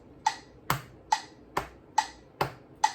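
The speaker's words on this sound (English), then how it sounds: "So then you just play with the metronome clicking on the and." Steady metronome clicks, alternating between two slightly different tones, about two per second, crisp and close with nothing else playing.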